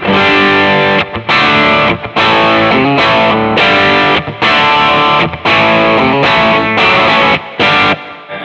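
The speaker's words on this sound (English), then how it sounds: "then it goes from that to the strawberry red overdrive," Electric guitar through a Strawberry Red medium-gain overdrive pedal, thick distorted chords struck in a steady rhythmic pattern with brief pauses, loud and close.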